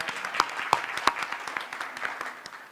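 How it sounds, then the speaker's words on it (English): Applause from an audience at a Charlotte-Mecklenburg Schools meeting: a smaller group clapping with distinct individual claps audible, fairly close and moderately loud, tapering slightly toward the end. "So let's give her one more round of applause."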